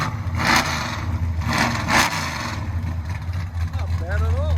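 A 1968 Chrysler Newport big block V8 with long tube headers and Dynomax Super Turbo mufflers rumbles at idle with deep exhaust burble and a few throttle blips, while people talk nearby.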